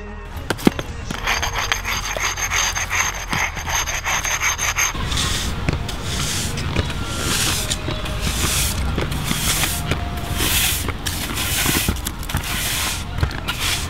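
Steady, coarse abrasive rubbing of a brick on a concrete skate ledge, continuous and close-up with a rhythmic back-and-forth scrape, slightly harsher in the second half.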